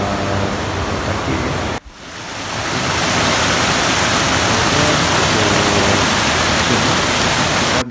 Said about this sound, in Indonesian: Kita bisa mendengarkan bocoran atau pancuran air yang sangat banyak sekali.